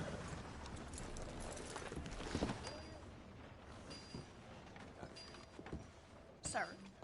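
Horse hooves clip-clop at a steady gallop in Red Dead Redemption 2, a quiet rhythmic drumming running under game ambience and faint voices, with a brighter burst near the end.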